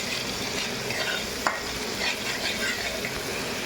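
Ginger garlic paste frying in a pan for a dhaba-style egg curry, a continuous close sizzle with stirring scrapes and a sharp clink partway through.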